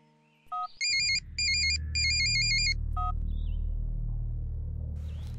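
A phone placing an outgoing call plays a short electronic tone pattern, then beeping ring bursts in three quick groups and one more blip, over a steady low engine rumble that continues to the end.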